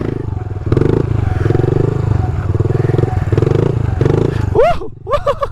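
A small pit bike on street tires loops a parking lot in circle wheelies, its engine droning in a loud, steady buzz that pulses rhythmically, then rising in sharp revving whines near the end.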